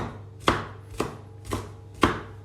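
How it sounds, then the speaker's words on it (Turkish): A knife chops bell peppers into smaller pieces on a board while making homemade pizza, four crisp, evenly spaced cuts about half a second apart, close and clear with no talking. "Ben biberleri bu şekilde biraz daha ufaltıyorum."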